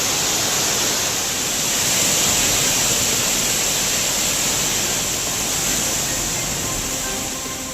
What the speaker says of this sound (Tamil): தொடர் மழை காரணமாக ஆர்ப்பரிக்கும் தேனி மேகமலை அருவி.